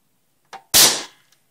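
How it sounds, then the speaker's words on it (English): An old 1980s pellet gun with a rubber shoulder grip fires once: a short click, then a loud sharp crack that rings briefly, alone and close. "I'm going to go ahead and hit the trigger. Show you what it sounds like when it's firing."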